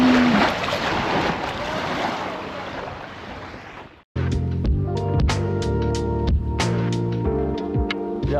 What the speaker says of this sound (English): just listening to the water rushing